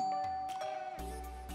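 A two-tone ding-dong doorbell rings twice in a home kitchen, clear and close, with nobody talking.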